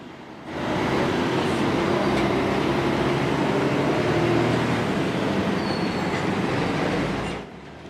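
A long Interpacífico freight train rolls past in the hills of La Primavera, a loud, steady rumble of cars and wheels that swells in quickly, holds for several seconds with faint squeals, then drops away at the end.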